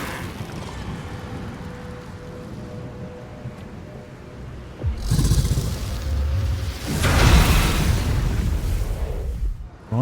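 Explosions in Baldur's Gate 3 erupt as two heavy booming bursts, each rumbling and crackling for a couple of seconds over a quieter background of ambient game noise.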